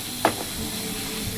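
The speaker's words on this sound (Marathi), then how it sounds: "इथे मी मच्छी फ्राय करायला ठेवली आहे" Fish frying in a kadhai, a continuous close sizzle and hiss of hot oil with one brief clink near the start.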